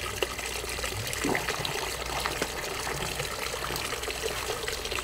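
Water from a pond waterfall pump, steady continuous trickling and splashing flow over the falls, fairly close and even throughout with no talk.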